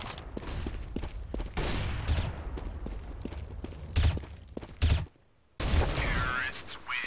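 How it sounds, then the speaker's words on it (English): A flashbang grenade detonates in a tactical shooter match amid a dense run of gunfire bursts and impacts, followed by a sudden near-silent gap and then a sharp return of loud noise with a high ringing whine. "Deploying flashbang."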